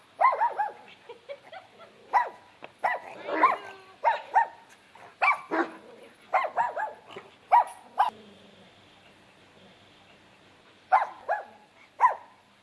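A dog barks repeatedly in sharp, irregular bursts, some clustered and some spaced out, with whiny yips mixed in, fairly close and loud with short quiet gaps between barks.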